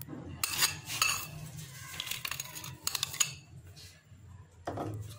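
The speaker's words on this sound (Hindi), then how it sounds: "इसको पहले अच्छे से मिक्स कर लेते हैं।" A utensil stirs mayonnaise and cream together in a bowl for Russian salad, making scraping, clinking strokes in irregular bursts with quiet gaps, close by and fairly soft.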